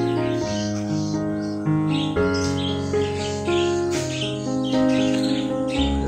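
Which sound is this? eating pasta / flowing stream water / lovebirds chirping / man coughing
lovebirds chirping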